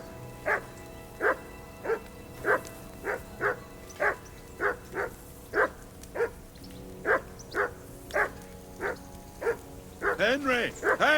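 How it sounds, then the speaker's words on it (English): A dog in Kingdom Come: Deliverance II barks repeatedly, some fifteen evenly spaced loud barks at a steady rhythm, closing in a quick burst of excited yips, with a low murmur of voices in the background. "Whistle at that mutt of yours to stop barking!"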